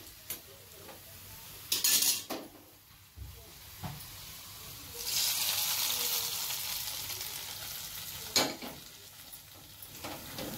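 Tadka for a garlic fenugreek (lasuni methi) dish sizzles and hisses in a pan, with a loud burst of frying midway that continues steadily, broken by sharp clinks of a stirring utensil against the pan. No one speaks.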